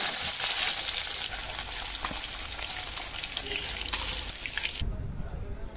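Hilsa fish pieces rubbed with salt and turmeric fry lightly in hot oil, a loud, dense, continuous sizzle that cuts out abruptly near the end, leaving a quieter low rumble.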